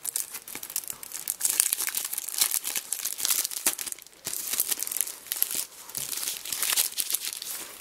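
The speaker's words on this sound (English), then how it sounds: "And then there is a sticker pack. Let's just open this up and see what's inside." Plastic wrapping on a sticker pack being torn open and crinkled, close and continuous rustling with sharp crackles and brief pauses.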